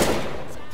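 A grenade blast in Counter-Strike: Global Offensive, a loud broadband burst at the onset that rumbles and decays across the short moment, with voices chatting over it.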